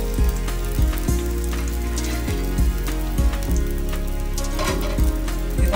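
Onions and green chillies frying in hot oil for a fish curry, a bright, constant crackle over a low steady hum, with regular clanking thuds as the pan is stirred.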